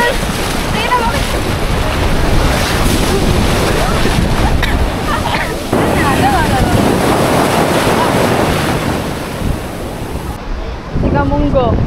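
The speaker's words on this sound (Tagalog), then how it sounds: "Ay, laki na alon!" Big ocean waves crash and roll at a beach during a typhoon, under heavy wind buffeting the microphone, with people talking nearby.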